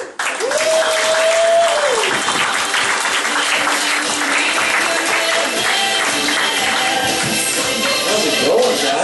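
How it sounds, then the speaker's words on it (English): Steady, loud applause from a crowd fills the whole stretch, with a voice speaking over the clapping. "You can clap, it's okay. You can keep clapping."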